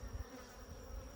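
Honey bees hum steadily around an open hive frame during queen rearing, a close, continuous buzz with no talking.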